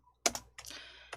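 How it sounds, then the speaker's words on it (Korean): Keys on a computer keyboard are pressed for an Alt-C shortcut, three or four crisp close clicks spaced unevenly in an otherwise quiet room. "키보드 Alt-C 눌러주세요"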